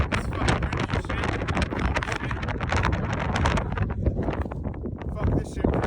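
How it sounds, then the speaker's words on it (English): Strong wind buffeting the microphone near the summit of Glacier Peak in Washington, a loud, rough, constant roar with gusty fluctuations throughout. "It's fucking windy as shit."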